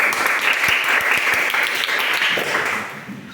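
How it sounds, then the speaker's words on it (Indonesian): Classroom applause from students for a group of classmates, a brief burst of many hands clapping close by that tapers off toward the end. "Kasih tepuk tangan dulu buat kelompok A ya."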